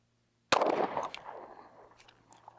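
A single sharp shot from a Springfield Hellcat 9mm pistol cracks loudly after a moment of quiet, then echoes and decays outdoors over the next two seconds.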